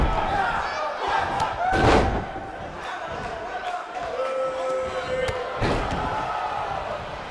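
Large wrestling arena crowd in WWE 2K19 roaring and cheering steadily throughout, with a few louder swells and thuds rising out of the dense, continuous noise.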